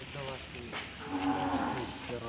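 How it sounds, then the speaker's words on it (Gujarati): Gir cows lowing at a cow shelter, one drawn-out moo rising and falling, heard fairly close with faint surrounding barn noise. "એમાં ગાયો છે।"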